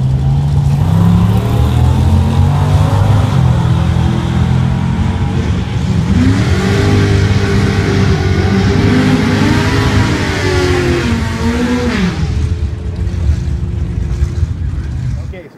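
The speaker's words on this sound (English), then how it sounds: "From Carstairs, Alberta, that 1949 Fargo pickup truck, TCS side of the racetrack." A 1949 Fargo pickup truck at a drag racetrack gives a loud, sustained engine roar with rising revs, heard up close and continuous throughout, with no other sounds standing out.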